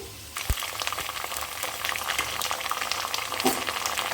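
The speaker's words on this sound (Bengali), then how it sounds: "তাই একটু কষিয়ে নিচ্ছি ডাটাগুলো" Potato and broccoli stems frying in a pan with ground cumin, ginger and green chili paste, a steady crackling sizzle with a thump and scattered clicks of stirring.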